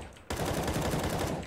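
Rapid automatic gunfire in CS:GO on the old Dust 2 map, a sustained loud burst of repeated shots that starts abruptly and fades slightly at the end.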